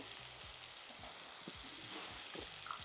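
Turmeric, chilli, coriander and cumin powders frying in oil for brinjal pulusu, a steady close sizzle with soft stirring scrapes.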